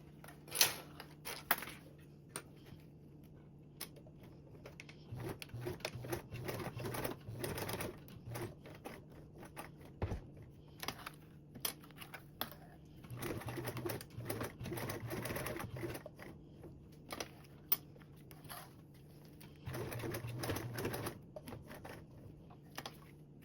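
A sewing machine stitches a second row along a sling strap in several runs of quiet, fast mechanical whirring, separated by pauses and small clicks.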